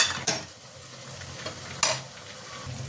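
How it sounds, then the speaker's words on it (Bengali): Onions and potatoes being stirred in a pan for chicken curry, a steady soft sizzle near the microphone, broken by two sharp scraping clatters of the spatula against the pan. "আলুর সাথেই কষবো"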